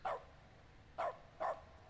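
Three short barks from a dog in a bucket in The Stanley Parable video game, one at the start and two close together near the end, quiet and slightly echoey over a faint hum.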